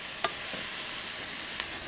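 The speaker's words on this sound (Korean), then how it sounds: "채소부터 먼저 이 부재료들부터 먼저 볶아 놓을게요" Vegetables for japchae stir-fried in a pan over high heat give a steady, soft sizzle, broken by two brief scraping clicks of the spatula against the pan.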